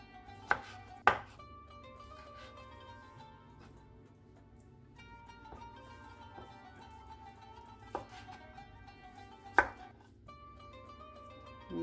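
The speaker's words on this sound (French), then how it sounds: "Donc je vais couper ce saumon en carré." A knife cuts raw salmon into cubes on a cutting board in a home kitchen, a series of sharp, sparse thuds and clicks spaced irregularly over quiet background music.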